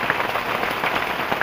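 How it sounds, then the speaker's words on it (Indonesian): Heavy rain pours down steadily at a bushcraft site where a cottage roof is being built, a dense, continuous hiss with scattered louder drops spattering close by. "Hujannya semakin deras ini mas bro"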